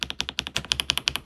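Rapid, even keystrokes on an Aula F87 Pro mechanical keyboard with lubed switches, about ten crisp close-up clacks per second in a steady run, with no talking.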